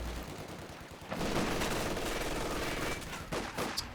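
A sustained machine-gun burst in a real-time strategy game, dense rattling fire lasting about two seconds before tapering into scattered distant shots.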